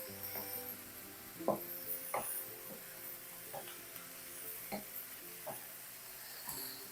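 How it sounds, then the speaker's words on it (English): Wooden spoon scraping and stirring eggs with vegetables in a pan for chicken pad thai, soft irregular knocks and scrapes over a faint steady sizzle, fairly quiet and close. "wooden spoon, and just moving the eggs around"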